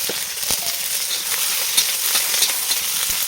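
Garlic sizzles steadily in a little oil in a wok, a dense close crackle with occasional sharper pops and no talking.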